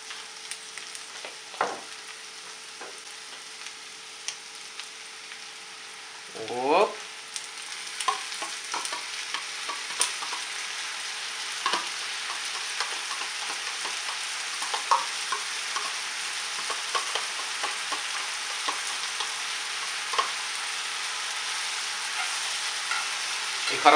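Sour cream is stirred into chicken and mushrooms frying in a pan, a steady close sizzle with repeated scraping strokes of a utensil against the pan.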